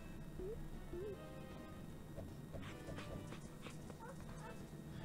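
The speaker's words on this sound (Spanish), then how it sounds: "Hay unos perretes por aquí." Small yips and barks from dogs in the mobile game Guardian Tales pop up over steady background game music, with a few light clip-clop footstep taps toward the end.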